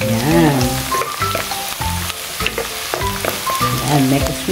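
Garlic and onion fry in a pan for a Bicol Express dish. A loud sizzle runs throughout, with stirring and scraping close up, and a voice talks over the cooking.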